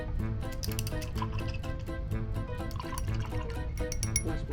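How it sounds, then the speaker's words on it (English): A paintbrush is swished and rinsed in a water cup during an acrylic painting session, giving a busy, continuous stream of close sloshing, dripping and clinking sounds with no talk. "Wash my brush."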